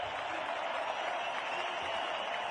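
Stadium crowd at the Rio 2016 Olympic football tournament applauding the Iraq team: a steady, dense wash of clapping and crowd noise, fairly distant and continuous, with no distinct voices standing out.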